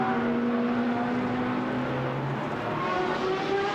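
GT race cars race at the Misano circuit, engines droning steadily with shifting pitch as they pass down the back straight, a continuous motor hum at moderate distance.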